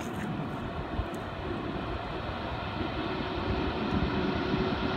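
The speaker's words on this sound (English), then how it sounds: "Here comes the train." A steady, loud rumble of a heavy Norfolk Southern freight train on a bridge at Mt Airy, Georgia, broad and continuous, slowly growing a little louder as it nears.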